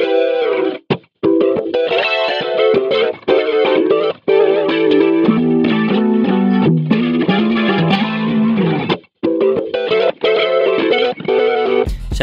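A guitar run through a Multivoicer vocoder and the Archetype Tim Henson amp plugin rings out in loud, dense, chordal phrases with a heavily processed, voice-like chorused tone, broken by short gaps between passages and no talking.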